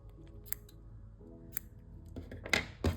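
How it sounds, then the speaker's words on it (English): Sharp scissors snipping through a yarn pom pom, a few quiet, separate cuts followed by closer, louder snips near the end. "For this part, it's quite handy if you have sharp scissors."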